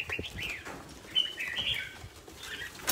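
Birds in a bird shop give faint, scattered chirps and calls, with a few soft wing flutters and rustles beneath them, heard at a low level without speech.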